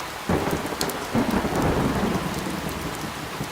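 Heavy rain pours steadily across surfaces while low thunder rumbles and cracks through the downpour, loud and continuous without any voices.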